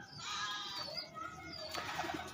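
Domestic pigeons coo softly nearby in a few low, throaty calls, with a couple of brief chirps mixed in, around nesting pairs with eggs.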